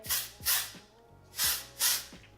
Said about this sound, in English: I also sometimes spray the Way texturizing hairspray